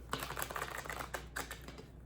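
Quick, soft riffling and tapping of tarot cards being shuffled, a rapid irregular patter close by and fairly quiet.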